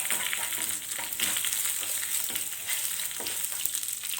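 Grated coconut and curry leaves stirred in a frying pan for kozhukatta give a steady, close sizzling hiss with soft scraping strokes throughout, and no voices.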